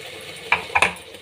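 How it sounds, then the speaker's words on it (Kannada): Ground masala paste for tomato bath frying in an oiled pan with a soft steady sizzle, broken by three sharp metal spoon scrapes and clinks against the pan, close and with no talking. "ಚೆನ್ನಾಗಿ ಎಣ್ಣೆ ಬಿಡುವವರೆಗೂ ಫ್ರೈ ಮಾಡೋಣ"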